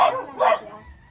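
A dog on a rural family visit gives two quick, close barks that trail off into a faint whimper.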